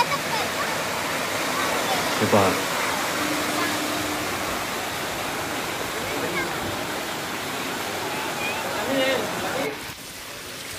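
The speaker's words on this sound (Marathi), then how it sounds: "मुरगुड तलाव मध्ये येणारं पाणी भरपूर पाऊस झाल्यामुळे वरच्या क्षेत्रात पाणी किती वाहत आहे बघा." Rain-fed water rushes steadily into Murgud lake (Sir Pirajirao lake) after heavy monsoon rain, a continuous broadband roar like a stream or small waterfall, with a brief spoken remark over it.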